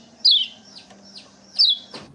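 A Lombok yellow kacial bird gives two loud, close, descending cheeps like a baby chick, with a few softer chirps between them over a low background hum.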